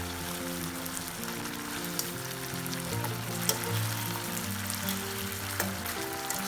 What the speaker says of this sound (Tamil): இப்போ ஹை ஃப்ளேம் வச்சு வேக வச்சுருக்கேங்க.